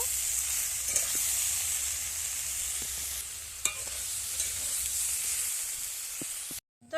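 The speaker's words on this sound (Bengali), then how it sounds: "লবণ দেওয়ার পরে একটু ভালো করে নেড়ে নেব" Cauliflower stems being stirred in a pan after salt goes in, a steady close sizzle with occasional clicks and scrapes of the spoon, cutting off abruptly near the end.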